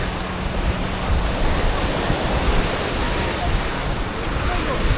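Strong wind roars across the microphone at Daniela beach in Florianópolis, with a constant dense rush of surf and gusts blending into a steady noise throughout.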